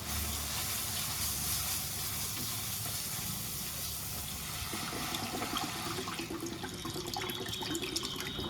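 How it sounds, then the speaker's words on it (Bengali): Rice bubbling in a pot on a home kitchen stove makes a constant watery hiss and rolling burble, fairly faint but steady, with no talk. "যে ভাত ফুটছে, ভাতও হয়ে যাচ্ছে"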